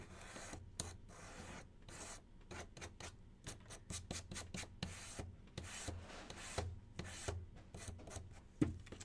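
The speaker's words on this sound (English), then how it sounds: "And we're just gonna sand them." Small wood pieces are hand-sanded in quick, uneven bursts of dry scratchy rasping. The strokes are close and fairly faint, with short pauses between them.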